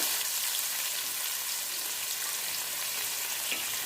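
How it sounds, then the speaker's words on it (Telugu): Large onions frying in oil for Nellore-style fish curry, a dense steady hissing sizzle, close and even throughout without speech. "ఇప్పుడు ఇందులో పెద్దుల్లిపాయలు వేసేస్తున్నాం."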